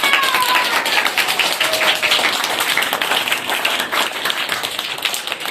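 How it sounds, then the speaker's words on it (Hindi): Children in a classroom clap loudly and vigorously for a group, a dense, continuous patter of many hands at close range that holds steady for several seconds. "सहयोगी ग्रुप के लिए जोरदार ताली लगाइए"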